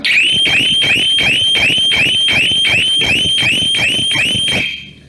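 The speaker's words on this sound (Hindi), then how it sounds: "तो ओनर के अलावा कोई भी आया तो इसमें सायरन बजा।" A shutter security system's loud electronic siren wails in rapid repeating upward sweeps, about a dozen cycles in quick succession, then cuts off abruptly near the end.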